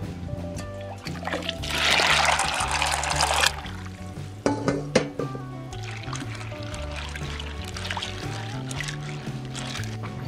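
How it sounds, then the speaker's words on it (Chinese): Running water rinses blackened hands and freshly shelled pine nuts in a basin, a steady close splashing and trickling with a louder gush early on and brief clattering in the middle. "我们去洗一下手，还有洗一下松子。"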